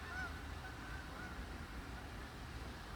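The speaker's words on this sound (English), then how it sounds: "geese are getting out of here." Geese honk as they fly off under a stormy summer sky in southwestern Michigan, faint distant calls set against a steady low rumble of wind.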